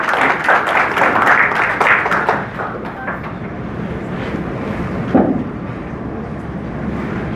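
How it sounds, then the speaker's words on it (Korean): An audience at an art fair opening ceremony in a hotel gives welcoming applause, loud at first and then fading into room noise. "여러분 큰 박수로 환영해 주시면 감사하겠습니다"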